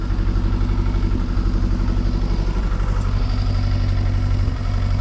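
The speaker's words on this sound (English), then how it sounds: "carburetors are absolutely miles out of synchronisation. Not surprising, it doesn't sound right, it's backfiring every so often" A Kawasaki ZXR750 H1 motorcycle idles unevenly with its carburetors badly out of synchronisation, a steady close, loud engine drone with lumpy, irregular pulses and occasional faint pops from backfiring, no voices.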